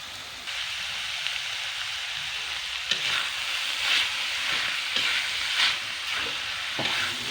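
Shredded chicken in red spice paste sizzles steadily in a pan as its liquid cooks away, with occasional spatula scrapes and stirs over a constant close frying hiss and no voices.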